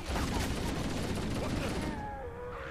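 In Halo: Combat Evolved, a gun fires a rapid, continuous burst of loud shots that ends near the close with ringing tones, and a voice talks over the gunfire.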